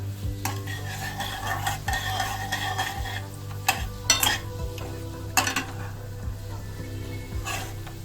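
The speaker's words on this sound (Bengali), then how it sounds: "একটা শুকনো লঙ্কা, তেজপাতা, দারচিনি, ছোট এলাচ আর লবঙ্গ দিয়ে দিলাম।" Dry red chilli, bay leaf, cinnamon, green cardamom and cloves sizzling in oil for chicken bharta: a steady close hiss with sharp spatters and regular scraping stirs of a spoon against the pan, no voices.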